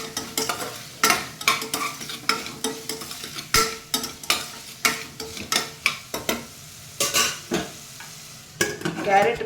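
Green chillies fry in a hot pan while a spoon stirs them, with a steady sizzle under repeated scraping strokes at a roughly even rhythm, close and clear, and no one speaking.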